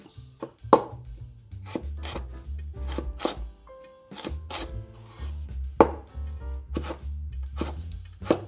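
A knife chops a small peeled onion into strips and then small cubes on a board, sending out quick, close, crisp strikes in uneven bursts with a brief pause midway.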